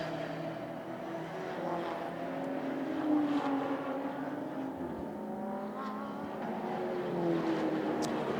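Race cars, including an HRT Performance Porsche, run the formation lap of the 24-hour race at Circuit Paul Ricard, engines droning steadily with overlapping pitches rising and falling as cars pass at moderate distance, with no talk.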